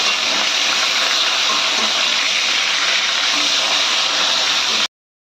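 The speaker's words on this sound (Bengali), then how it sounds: "মাছের মাথাটা আমরা একটু ভেজে নিচ্ছি।" A hilsa fish head rubbed with salt and turmeric fries in hot oil, a loud, constant close-up sizzling hiss that runs unbroken for nearly five seconds before cutting off abruptly.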